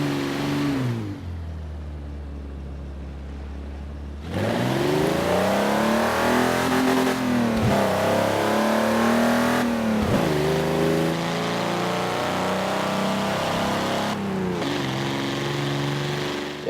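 A car engine in Forza Horizon 4 revs hard and loud, rising in pitch through repeated upshifts during a sustained run of acceleration, with no talk over it.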